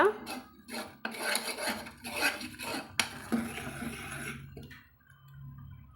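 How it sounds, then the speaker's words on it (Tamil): A spoon scrapes and clanks against a metal pot in quick, repeated strokes, stirring tempering into okra sambar, close by, then the stirring trails off into quiet. "தாளிப்பு கொட்டிட்டு கலந்துட்டுக்கலாங்க"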